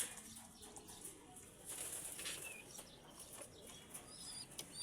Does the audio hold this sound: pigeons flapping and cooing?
yes